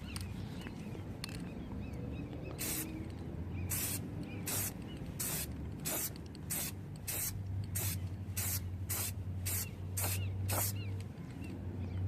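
Spray paint goes on as a second coat on GY6 scooter handlebar controllers, a series of short close hissing bursts from the can, about a dozen quick sprays with brief pauses between them.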